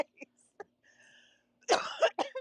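A few short throat sounds lead into a burst of loud, close coughing, two or three harsh coughs in quick succession.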